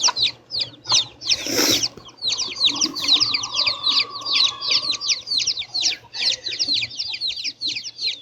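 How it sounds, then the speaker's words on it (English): Several chickens cluck and squawk in a steady, busy chorus close by, with repeated sharp calls running continuously and a brief burst of louder noise early on. "The chickens are yelling at me."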